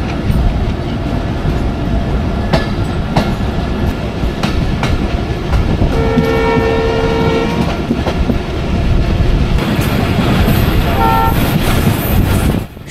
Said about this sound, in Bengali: নয়টা বেজে 27 দাসুরিয়া থেকে আমাদের ঢালারচর এক্সপ্রেস ছেড়ে দিল।